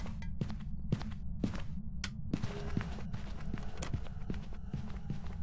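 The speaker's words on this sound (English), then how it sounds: "You can hear a lot of bass to its footsteps." Fast running footsteps of a ghost in the horror video game Phasmophobia, a steady run of heavy, bass-laden thuds close by over a low rumbling ambience.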